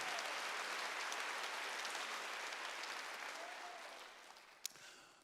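A church congregation at a Wednesday worship service applauds together, a steady wash of clapping that gradually thins and fades toward the end, with one sharp louder clap near the close.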